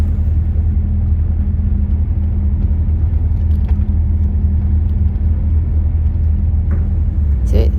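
Steady, loud car engine rumble and road noise from inside a moving car on a country road, continuous throughout, with people talking over it.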